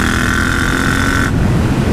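A Yamaha MT-07 motorcycle with an AliExpress aftermarket exhaust and homemade dB killer revs loudly up close, a sustained buzzy engine note that cuts off abruptly into a lower rumble near the end.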